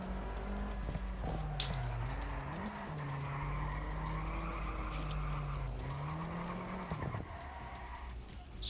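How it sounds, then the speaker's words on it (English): Car tires squeal and skid continuously during donuts in the Sébastien Loeb Rally EVO video game, a loud, steady wail over a droning engine that bends in pitch as the car spins. "we're gonna go ahead and try to do some donuts"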